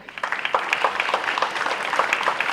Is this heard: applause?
yes